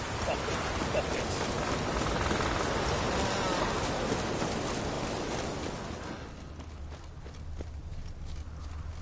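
Heavy rain in The Witcher 3 on PS4 hisses loudly at first and then drops off to a quieter patter, with soft footstep-like thuds and a low steady hum underneath toward the end.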